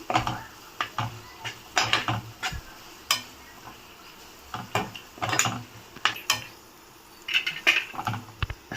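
Spoon scraping and clinking in a curry pan while stirring in chilli powder, turmeric and two green chillies for an egg potato curry, irregular close metallic clatter in short bursts with brief pauses.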